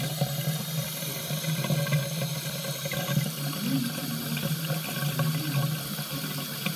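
Water runs continuously from a tap, a steady rushing stream with a constant low hum beneath and no speech.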